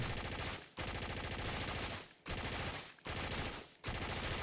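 Full-auto rifle bursts fired by AI soldiers in the tactical shooter game Ground Branch: three long, dense, loud bursts, each cut off by a brief gap of silence before the next.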